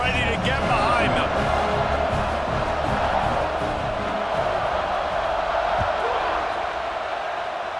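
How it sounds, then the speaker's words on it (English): A dense stadium crowd roars continuously at the opening kickoff of a college football video game, Kansas State at Tennessee, a steady broad wall of cheering with a commentator speaking over it. "Set to kick it off, and this crowd now ready to get behind them."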